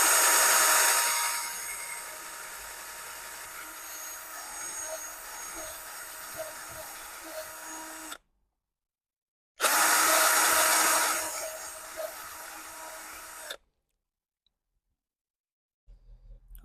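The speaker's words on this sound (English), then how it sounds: "Take it nice and easy. Don't want the drill bit to bind into the plastic." A power drill bores a pilot hole into plastic, a steady loud whirring that runs for about eight seconds, stops briefly, then resumes for several more seconds before cutting off.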